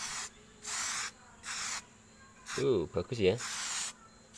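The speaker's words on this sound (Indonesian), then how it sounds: "Jadi mudah saja nyemprotnya ini, tinggal semprotkan saja seperti ini." Aerosol spray paint can hissing onto a refrigerator handle in repeated bursts of about half a second each, with a short spoken remark between sprays.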